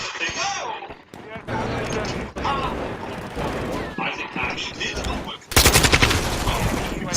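Rapid automatic gunfire and shotgun blasts from Modern Warfare 2 multiplayer gameplay, with loud dense bursts and a sharper heavy volley near the end, mixed with game effects and talk over the top.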